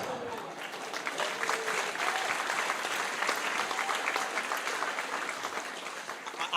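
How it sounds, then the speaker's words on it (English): Sustained applause from an audience at a London political leadership hustings, a dense, steady wash of many hands clapping at fairly even loudness throughout, with no clear voices over it. "it's going to get claps every time"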